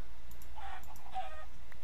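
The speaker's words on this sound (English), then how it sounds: "that's a lot of chickens out here" Chickens cluck in two short bursts around a farm, fairly close and alone over a steady low background hum.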